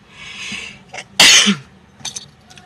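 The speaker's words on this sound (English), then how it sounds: "a sneeze is called pangatsi, because you say atsi" A single loud sneeze bursts out after a short breathy build-up, followed by a few faint sniffs.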